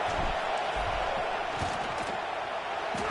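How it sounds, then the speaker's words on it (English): Crowd noise in a football stadium before a field goal kick, a dense continuous roar from the stands that holds steady throughout with no break, and a commentator's voice faintly audible within it. "This crowd trying to do its part to get inside the kicker's head"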